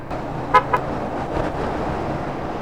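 A motorcycle horn gives two quick, short honks over a steady rumble of nearby road traffic during a night ride on the Marilaque highway.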